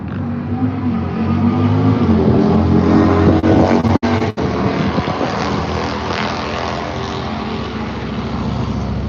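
Several bikes running at a motorcycle gathering near a weigh scale, a loud continuous engine roar with a rough rumbling drone and slight swells, heard up close with a brief cut in the sound.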